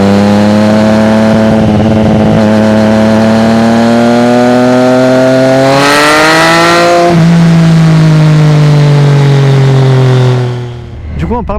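A Triumph Street Triple motorcycle engine revs loud and close with a steady harmonic drone, climbing in pitch, then drops sharply as it downshifts to first, settling lower before fading out at the end.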